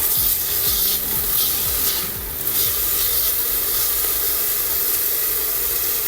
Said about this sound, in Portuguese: esse barulhinho aqui, ó, sinal que a gente tá o quê? Refogando